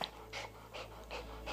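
Quick rhythmic panting from a dog, close by, with several breathy bursts at an even pace and no voices.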